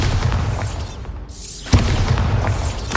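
The Bombarda spell explodes in the video game Hogwarts Legacy, a heavy booming blast with a brief drop-off and a second sharp thump at about two seconds, over a rumbling game background.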